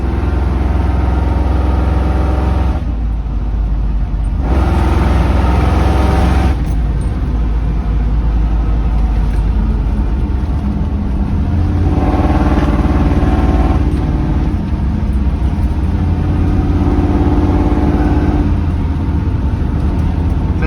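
A 1966 Ford Mustang's engine roars loud and close. The throttle swells and eases in several surges over a constant rumbling drone, as if driving on a road.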